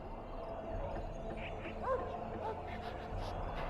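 A dog in Dragon Age: Origins gives a few short yips and whimpering barks over a steady low ambient bed, fairly faint and spaced across a few seconds.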